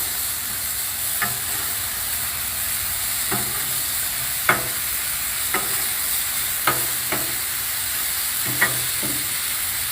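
Sirloin steaks with ghee sizzling on a Blackstone griddle, a steady close hiss with scattered clicks and taps of a spatula, no talking.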